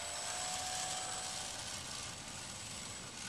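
A small RC model airplane's electric motor whines steadily in flight, a faint continuous buzzing drone that holds at an even level throughout, with no voices.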